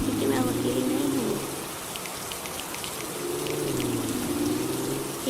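Steady rain hiss in Minecraft, a continuous bed of falling drops with faint bird-like chirps and tonal game sounds drifting in and out; no speech over it.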